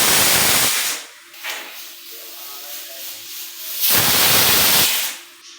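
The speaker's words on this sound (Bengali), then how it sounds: "এবার এখানে কয়েকটা সিটি দেবো আমি, তারপরে এর আসল কুকটা হবে।" A pressure cooker of mutton paya with turmeric, salt and chopped onion whistles loudly in two long hissing bursts of steam, with a quieter steady hiss between them and no talking.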